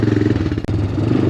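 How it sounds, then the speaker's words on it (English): Honda Recon ATV engine running close and loud after years of sitting, a rough steady mid-pitched idle under load with a brief dip and stumble midway. "She's idling, but under load, she's not happy."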